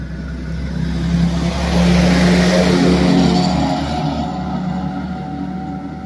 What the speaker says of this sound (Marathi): बघत आहात की गाड्या एवढ्या जोराने जात आहेत